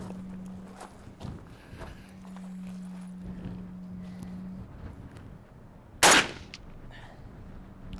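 A single 7.62x39 rifle shot cracks out loud and sharp partway through, standing alone above a quiet outdoor background with faint footstep-like rustling.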